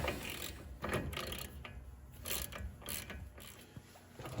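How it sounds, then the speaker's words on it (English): A ratchet loosening the lower ball joint nut on a 1500 Silverado front suspension, giving repeated bursts of rapid mechanical clicking, close and fairly quiet, with short pauses between strokes and no voices. "I'm gonna go ahead and take the nut off for the lower ball joint"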